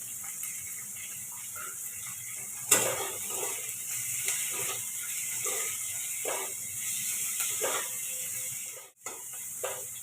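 Onion lightly frying in a pan with a pinch of salt while making macaroni masala: a steady soft sizzle and hiss throughout, with a few faint clinks and scrapes from stirring.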